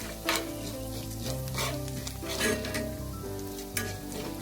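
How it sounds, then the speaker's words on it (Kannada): Chili peppers, rice, urad dal, cumin and coriander frying in oil over a low flame, a soft continuous sizzle with occasional stirring clinks, close and steady, with a faint tonal hum in the background and no speech. "ಅದೇ ಎಣ್ಣೆಯಲ್ಲಿ ಮೆಣಸನ್ನು ಕೂಡ ಫ್ರೈ ಮಾಡ್ತಾ ಇದ್ದೇನೆ."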